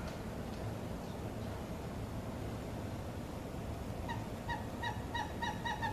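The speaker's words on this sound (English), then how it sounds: "That's Western screech owl." A western screech owl calls with a series of short, tooting notes that begin partway through and quicken like a bouncing ball, faint over steady background hiss.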